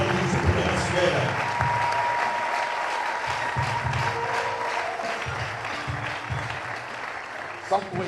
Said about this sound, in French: I want you to put your hands together.